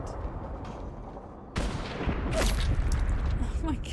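A sniper rifle shot in a video game cracks out abruptly after a quiet stretch, followed by a second loud burst and rumbling aftermath, with a voice reacting in the background.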